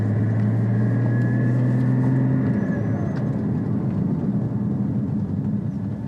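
A 2016 Porsche GT4 sports car drives past with a loud, steady engine rumble and low droning tone that fades slightly toward the end, no talking.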